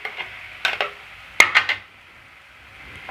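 Masala powders and salt get stirred into a pot for garlic fish curry, with a spoon scraping and clinking against the metal in short bursts that come close and fairly loud, then trail off into quiet.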